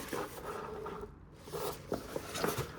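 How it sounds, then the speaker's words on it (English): Zipper on an Eberlestock Bando Bag XL being pulled around the bag, short raspy zipping strokes with a brief pause in the middle, close and fairly quiet. "There's a zipper that goes all the way around, starting here, zips all the way around."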